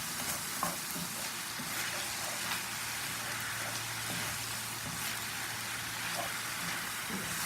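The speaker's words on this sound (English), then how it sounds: "I just stick the ground beef in there, and as it cooks down," Ground beef fries in coconut oil in a skillet, a steady close crackling sizzle throughout, with occasional stirring scrapes and small pops.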